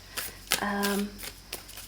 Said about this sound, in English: It shuffles just fine.